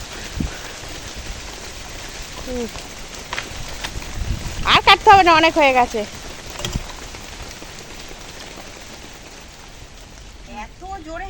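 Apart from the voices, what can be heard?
rain falling outdoors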